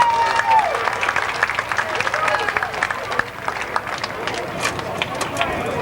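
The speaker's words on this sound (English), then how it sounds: "Let's give Woody a big round of applause." A crowd at a stock car speedway event applauds a race driver with scattered, uneven clapping and a few cheers from the stands, while voices and crowd noise carry on underneath.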